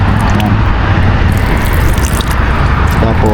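Water runs from a sensor-activated drinking tap in a steady, close splashing stream with small dripping and trickling detail, and no one speaks.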